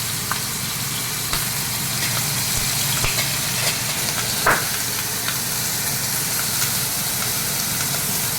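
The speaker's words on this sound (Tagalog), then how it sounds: "ayan prito prito lang muna saglit na prito" Food sizzles steadily in a hot pan, a continuous hiss broken by a few sharp pops and spatters.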